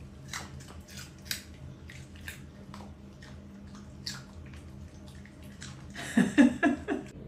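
A dog crunches a treat in a quiet English countryside cottage, giving a series of sharp, close crackles spread across the clip, followed by a denser burst of louder chewing near the end.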